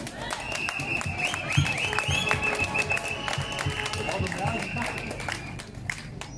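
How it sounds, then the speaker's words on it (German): An outdoor crowd at a Monday walk vigil in Bautzen applauds in a steady patter of clapping, with whistling and people talking throughout. "das ist ein Applaus wert, das ist euer Applaus."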